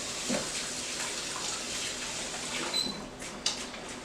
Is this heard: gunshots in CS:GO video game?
no